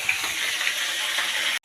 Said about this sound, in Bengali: এই যে টকবক করে ফুটছে।